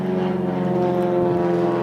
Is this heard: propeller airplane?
yes